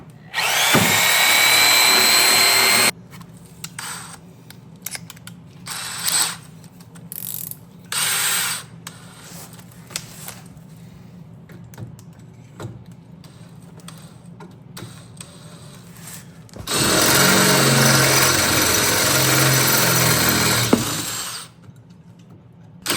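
A power drill bores holes into the frame of a C4 Corvette for a custom tow hook, running loud in a long burst, then in short stop-start bursts, and again in a long burst.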